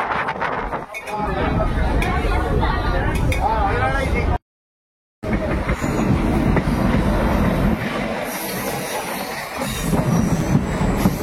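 Howrah to Digha local passenger train running, a steady loud rumble of the coaches on the rails with rattling and occasional squeal, broken by a brief gap, with voices talking over it.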